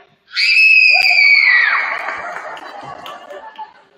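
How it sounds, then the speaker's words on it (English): A school assembly audience of students yells and screams together at full volume in one sudden burst that holds for about a second and then trails off into scattered laughter and chatter. "So when I count 3, I want you to yell or scream as loud as you can."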